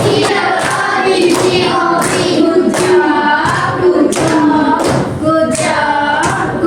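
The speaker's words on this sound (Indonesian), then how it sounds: "Kita kasih tepuk good job." A classroom of sixth-grade students claps in unison to praise a classmate during a maths lesson, giving a steady run of close, fairly loud hand claps with some voices mixed in.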